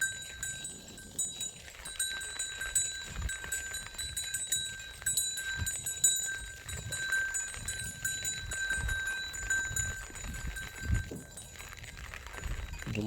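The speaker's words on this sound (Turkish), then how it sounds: "koyun iyi otluyor" A flock of sheep grazes on rainy, fog-covered mountain slopes. Bells clink irregularly and steady tonal chimes ring over soft rustling and chewing nearby, with occasional thumps and no speech.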